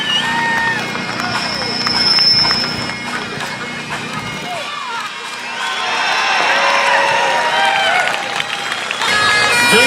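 A crowd at the 2016 Cobourg Highland Games cheers a woman's full caber toss (17.2, 55 pounds), a steady roar of voices with whistles that swells, dips briefly midway, then rises again, with an announcer talking over it.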